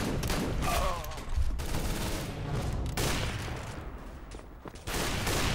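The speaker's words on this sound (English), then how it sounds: "Did he just shoot through the wall?" Gunfire in Counter-Strike: Global Offensive, shots piercing a wall as a rapid burst of loud cracks in several clusters with short gaps, fairly close.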